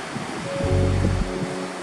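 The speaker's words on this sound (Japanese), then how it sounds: "瞬間膝程度ぐらいの波が" Ocean waves break at a surf point on an early-morning beach, with an offshore wind and knee-high waves. A steady rushing roar swells briefly as one wave crashes, mixed with wind buffeting the microphone.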